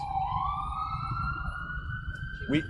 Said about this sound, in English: just give me 1 second for the sirens